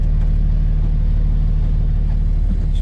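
Old truck called Rusty with its engine running, a loud, close, rough low idle with a steady throbbing pulse and no voices.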